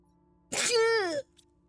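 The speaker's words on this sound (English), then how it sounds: "Oh, I think I sneezed my soul out." A single loud sneeze bursts out and trails off in under a second, followed by a brief faint sound before quiet returns.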